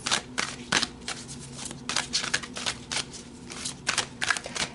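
Oracle cards shuffled for a tarot-style reading, a steady run of crisp riffling and sliding card bursts, close up and fairly loud, with no voices over it.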